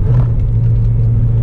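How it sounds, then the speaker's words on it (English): A car shifts down into second gear without rev matching, a loud close low engine rumble droning steadily with a slight lurch in tone at the start. "I'm gonna put it into second without rev matching, and we're going to see what RPM it goes to"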